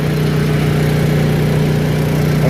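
A Honda EU2000 generator running with its eco throttle on: a loud, steady engine drone with a constant low hum, unbroken and without talk.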